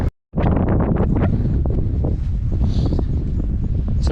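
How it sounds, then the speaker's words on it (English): Strong wind on an open hilltop fell in the Lake District, roaring steadily against the microphone after a brief cut at the start, loud and close with no talk. "Quite windy up here."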